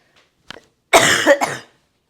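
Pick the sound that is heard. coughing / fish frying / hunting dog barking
coughing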